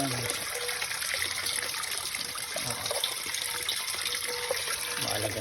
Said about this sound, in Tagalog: Maganda na po ang bagsak ng tubig. Malakas na po.